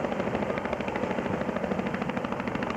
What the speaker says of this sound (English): A demonstration of how they get these people back up into the helicopter.